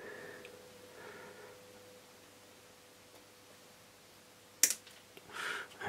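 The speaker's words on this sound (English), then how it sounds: "we'll snip that off about there" Wire cutters snip off a wire lead during hardware installation of an HF modification on a Quansheng radio, giving a single sharp, close click near the end and a brief follow-up rustle over faint room hiss.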